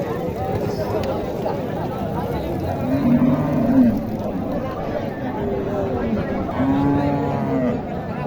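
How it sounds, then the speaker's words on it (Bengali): Red Chittagong cattle at a busy rural cattle market in Naogaon moo in two long, low calls, set against a constant hubbub of chattering traders and crowd noise. "এখানে একটা আছে গরু দেখেন এটা হচ্ছে আরসিসি রেড চিটাগং ক্যাটেল"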